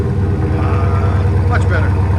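Dodge Challenger 392 Scat Pack with a 6.4L HEMI V8 and six-speed manual, rumbling loudly and steadily through an aftermarket exhaust, with a deep continuous low growl throughout and a voice briefly audible over it.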